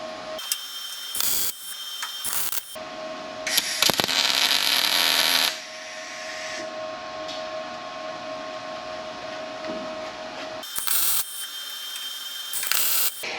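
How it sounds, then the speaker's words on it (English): Tack welding joins two car subframe halves for a Firebird, heard as loud bursts of crackling, buzzing welder arc with a steady hum between them and short mechanical clatters. "First weld on joining the two frame halves going in now."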